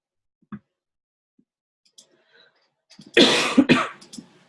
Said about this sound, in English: I still have a cold, so you'll be hearing me coughing